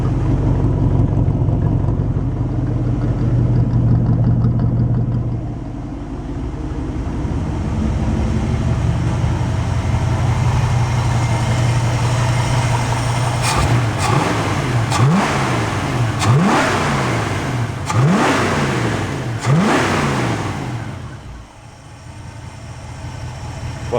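A 1967 Mustang engine idles roughly after a carburetor air-fuel adjustment, then gets several quick throttle blips that rise and fall in pitch, close and fairly loud.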